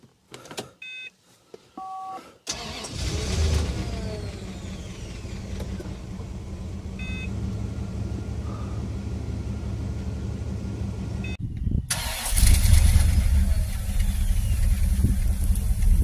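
A Rolls Royce Silver Spirit III that stood abandoned for years cranks and fires up: warning chimes, a starter whir, then the engine catches into a loud, steady idle that swells louder near the end.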